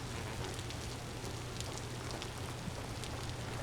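Steady, soft rain patters continuously in Vintage Story, a dense hiss of drops with faint scattered ticks, alone with no talking.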